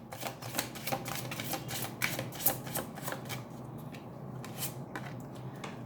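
An oracle card deck being handled, giving a steady run of soft, crisp card snaps and flicks at close range, with no talking.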